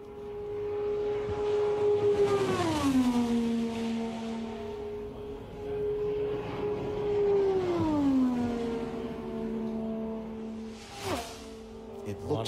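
A 2018 Indy race car driven by Josef Newgarden roars past on the Indianapolis oval during 500 qualifying, its engine whine sweeping down in pitch twice as it passes, then a faster burst near the end. Commentators talk over it.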